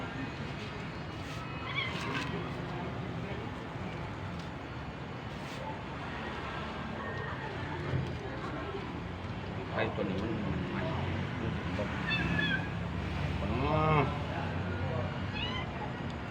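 A cat meows repeatedly, several short calls scattered through a busy background with a person talking nearby.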